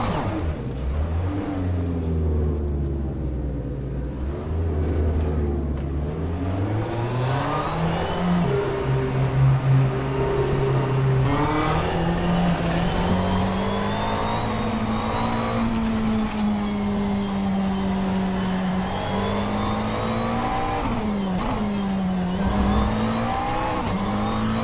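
Race car engine in the rFactor 2 sim-racing game, loud and continuous, revving up and down through gear changes with rising and falling pitch sweeps throughout.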